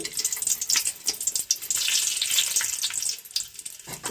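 Cloves, cardamom and other whole spices fry in oil in an aluminium uruli over a wood-fired stove for biryani, with a close, steady sizzle broken by stirring clatter and no talk.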